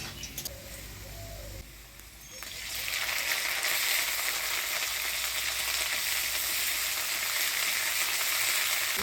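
Potatoes frying in mustard-oil tempering in a traditional Bengali village kitchen, being stirred. A quieter stretch at first gives way to a loud, steady sizzle that fills the rest of the clip. No one speaks.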